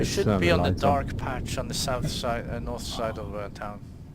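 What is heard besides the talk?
No everyday noises stand out.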